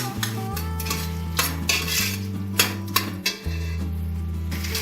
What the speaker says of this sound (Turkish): soğanlarımız kavruldu salçamızı ekliyoruz